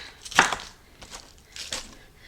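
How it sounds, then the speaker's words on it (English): Knife chopping cabbage on a cutting board: a few crisp, crunchy cuts in quick bursts, close and moderately loud, with quiet pauses between strokes. "I'm going to finish chopping this up and then we're going to add it to the crock pot"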